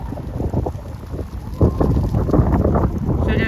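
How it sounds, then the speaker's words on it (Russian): Wind blows hard and gusty outdoors at a basketball court, a steady rumbling buffet on the microphone that strengthens midway through. "Сегодня ветер."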